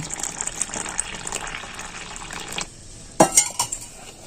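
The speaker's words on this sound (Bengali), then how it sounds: "এবার আমি এই যে নর্মাল জল নিয়েছি এ দিয়েই আমি এটা ব্যাটারটা তৈরি করে নেব" Semolina pitha batter being mixed with plain water in a bowl: steady wet stirring and sloshing, then a brief pause and a few sharp clinks of a utensil against the bowl near the end.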